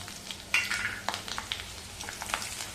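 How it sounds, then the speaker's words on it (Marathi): Green chillies and curry leaves hit hot oil already popping with mustard seeds and cumin, giving a close, steady crackling sizzle with a few sharper spits and stirring scrapes. "त्याच्यातच कापून घेतलेल्या मिरच्या आणि कढीपत्ता घालूया"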